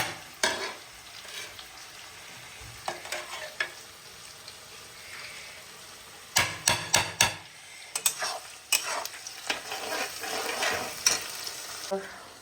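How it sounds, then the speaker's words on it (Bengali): Onions fry in a pan while being stirred for a country chicken curry, a soft background sizzle broken by bursts of sharp scraping and clinking from a utensil against the pan, mid-distance. "পেঁয়াজ ভাজা হয়ে গেছে দিয়ে দেব মশলা"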